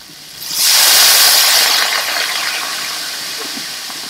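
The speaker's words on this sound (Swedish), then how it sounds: "Slår vi på lite vatten." Water poured into a hot pan of chorizo and potato stew bursts into a loud hissing sizzle, then settles into a softer, steady steaming bubble that fades gradually.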